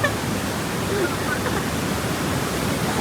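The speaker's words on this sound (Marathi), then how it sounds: "खतरनाक धबधबा बघायला आलो होतो" A waterfall roars in a continuous, loud, broadband rush of falling water that stays even and unbroken from start to finish, with no distinct voices.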